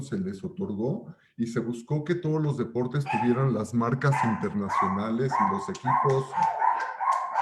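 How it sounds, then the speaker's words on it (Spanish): Dogs bark and yip in the background outside an office setting while someone talks over them throughout. "Perdón por los perros, pero es el problema de estar fuera de las oficinas."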